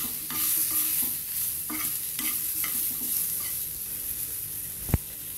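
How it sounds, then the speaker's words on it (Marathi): Tomatoes, ginger, garlic and green chili sizzle in a pan while a spoon stirs and scrapes in a steady rhythm, ending in one sharp clink, with no voices. "आता आपण टोमॅटो फ्राय करून घेऊ. यातच टाकू आपण अद्रक लसूण, ते पण फ्राय करून."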